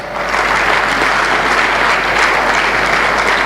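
A crowd claps steadily and loudly, a dense wash of applause that holds at the same level from start to finish.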